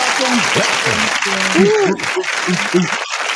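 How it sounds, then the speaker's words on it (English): A studio crowd applauds and cheers in a sustained, loud burst, with excited voices over the clapping that dips briefly before carrying on. "And the crowd goes wild."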